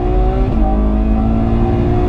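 Ferrari 812 Superfast front-engine V12 revving hard on a race track, a loud sustained high-rpm engine wail with a brief shift dip early on, close and continuous without speech.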